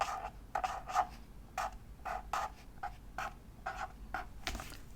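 Pen nib scratching across paper in a bullet journal while writing goals, a Muji 0.38 pen nearby; short rhythmic bursts of scratchy strokes come close and steady, quiet, with no talking.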